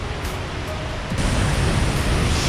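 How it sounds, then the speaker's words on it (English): Water at Croton Gorge Dam in Croton-on-Hudson pours over the spillway in a powerful, unbroken roar, loud and close, a dense wash of rushing noise that swells slightly partway through. "Sheer power of the Croton Dam. Look at the flow of water."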